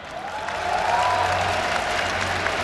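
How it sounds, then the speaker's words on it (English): A large crowd in Hall 8 at Gamescom cheers and applauds steadily at a FNATIC esports match, a dense sustained roar that swells early and holds loud throughout. "let me hear you cheer."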